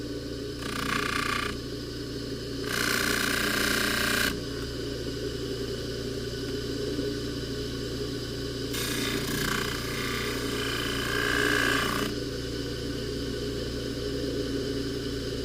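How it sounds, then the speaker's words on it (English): Polishing a welded hollow chain, with a steady motor hum and several separate bursts of brighter, scraping grinding noise against the metal. "let's go ahead and polish the rest of the chain here"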